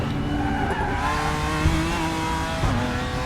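A race car in the RaceRoom racing video game braking hard, engine note dropping with tyre squeal and skidding under steady mechanical whine, a short loud burst of downshifts repeating twice.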